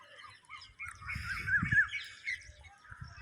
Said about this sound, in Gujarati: કાગડા ચકલીઓ ને બધું મસ્ત વાતાવરણ થઈ ગયું